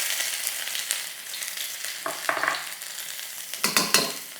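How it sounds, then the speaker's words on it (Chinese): Ginger and scallions stir-fry in about a tablespoon and a half of hot oil in a wok, making a close, continuous sizzle with clusters of scraping stirs and clinks near the end, no voices. "姜、葱先进来"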